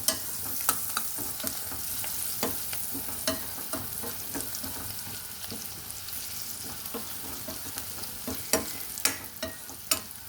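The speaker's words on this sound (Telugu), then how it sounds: "మెంతిపొడి పసుపు వేసాక బాగా కలుపుకోవాలి." Onions with fenugreek powder and turmeric frying in a pan for a peanut-chili curry, a soft continuous sizzle broken by repeated scraping clicks of a spoon stirring, close and without talk.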